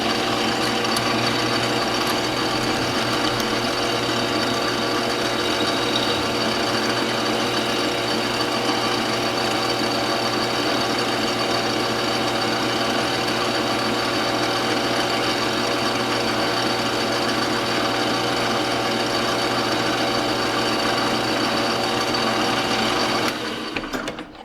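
A lathe faces the end of a piece of chucked nylon stock, a steady loud machining drone with constant whine that runs unbroken for over twenty seconds before cutting off abruptly.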